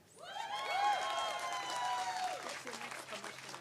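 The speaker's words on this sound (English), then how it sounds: "Can we give her a round of applause?" An audience at a Roe v Wade commemoration event applauds after a speech, moderately loud clapping that builds quickly and holds for a few seconds, with a voice heard over it.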